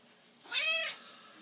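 Cleopatra, a pet cat, lets out a single short, rising-and-falling meow, close and fairly soft, against a quiet room.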